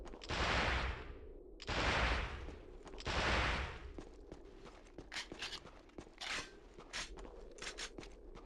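Three loud, booming pistol shots in a video game ring out at a slow, even pace and fade with long tails, followed by quieter scattered clicks and taps.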